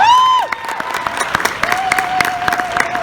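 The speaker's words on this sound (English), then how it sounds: "So maybe a round of applause for Neil McDonough," A convention panel audience applauds, a moderate burst of clapping and some cheering from a crowd, with a high tone sounding over it.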